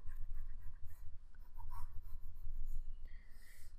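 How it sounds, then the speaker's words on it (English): A drawing pen sketches a bottle outline, with quiet close scratchy strokes in a quick repeated rhythm, pausing briefly before continuing, over a low background hum. "So let's go ahead and get sketching."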